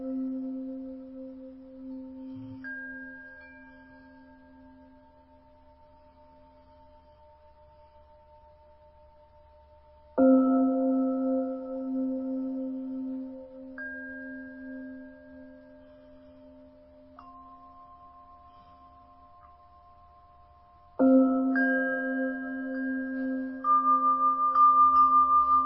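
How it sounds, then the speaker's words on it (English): Resonant Tibetan bells struck three times, each ring sustaining and slowly fading, with lighter high tinkling chimes layered over the later strikes; no voices. "Just focusing our attention on the bells and the tinkles"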